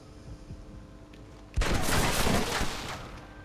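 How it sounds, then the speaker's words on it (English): Machine gun fire in Red Dead Redemption. After a quieter stretch of ambient game sound, a sudden loud, dense burst of automatic fire sustains for nearly two seconds, then slowly tails off. "He's got a machine gun."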